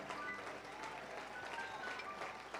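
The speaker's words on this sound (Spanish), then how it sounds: "Dale, dale fuerte ese aplauso al Señor" A church congregation applauds during a Pentecostal sermon, a continuous wash of many hands clapping at moderate volume, steady from start to finish without pause.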